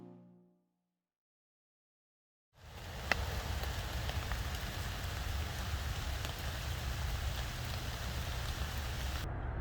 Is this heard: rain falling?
yes